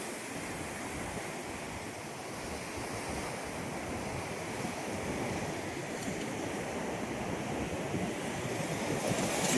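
Muddy floodwater of the swollen Krishna river near the Bahe bridge rushing past in a steady, loud broadband roar with wind buffeting, continuous and swelling slightly toward the end, no voices.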